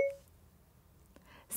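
Apple CarPlay voice command activation beep triggered from the steering wheel button: a single short, clear tone at the very start, then quiet car-interior hush.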